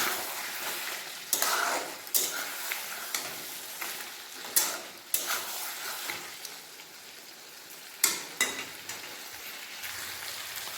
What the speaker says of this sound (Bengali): এরপর এটাকে ভালোভাবে কষিয়ে নেব গ্যাসটাকে বাড়িয়ে কষিয়ে নেব ভালোভাবে